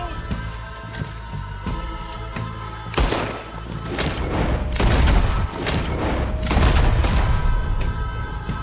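Gunfire in Red Dead Redemption 2 during a distillery shootout, with heavy overlapping volleys of loud shots and booming impacts that begin after a short lull and continue in dense rattling bursts.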